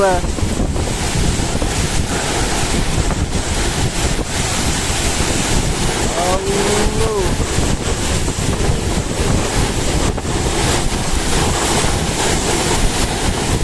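A strong storm wind in Kerala blasts across the microphone without letup, a loud, continuous roaring rush with gusty buffeting and faint voices buried beneath.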